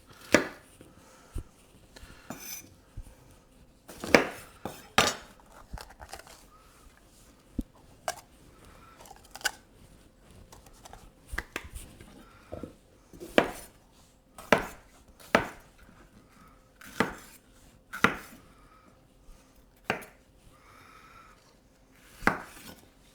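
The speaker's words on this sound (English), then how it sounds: "Just chunk it so it's small enough to fit neatly into your food processor of choice." A knife chops green peppers into chunks on a board, making sharp, irregular chopping knocks spaced a second or two apart with quiet pauses between, close and clear.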